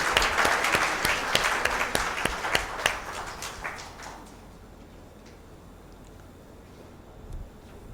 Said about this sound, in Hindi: आपसे अनुरोध है कि तालियों से उनका स्वागत करें।